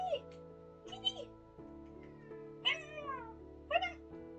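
A cat meows several times in short, clear, close calls, spaced about a second apart over a faint steady background tone.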